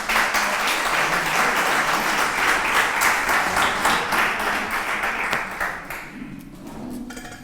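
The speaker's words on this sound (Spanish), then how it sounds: "Un aplauso a Mario que..." Sustained applause from an audience at a literary tribute event, dense and even for about six seconds before thinning out and fading near the end.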